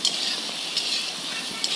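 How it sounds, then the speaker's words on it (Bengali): Potatoes with ginger-cumin paste and salt being mixed in a hot pan after fried pointed gourd has been removed: a continuous bright sizzle with light scraping strokes, close and fairly loud, with no voices. "এখন মিশিয়ে নিচ্ছি ভালোভাবে।"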